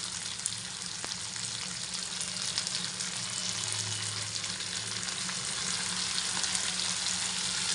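Taro stolons with shrimp, salt and turmeric stir-frying in a pan, a steady close sizzle running throughout with occasional soft stirring scrapes.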